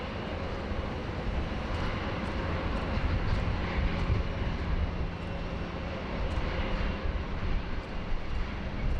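A Virgin Australia Boeing 737-800 arriving at Sydney Airport from the Gold Coast makes a steady, moderately distant engine rumble that swells slightly midway and carries on alone without voices.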